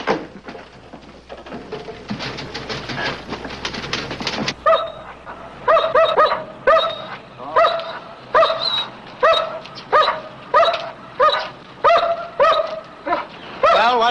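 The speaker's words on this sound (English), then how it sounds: "Nice dog you got." A dog barks repeatedly and loudly at close range in a steady series of sharp woofs, after a stretch of rustling background noise.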